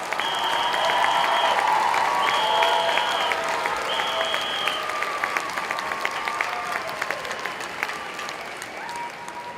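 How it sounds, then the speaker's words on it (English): A university commencement audience at UW Parkside applauds the spring 2019 graduates, a broad, even wash of clapping with a few cheers, continuing steadily, while electronic tones sound in the background. "Another round of applause, please, for the graduates"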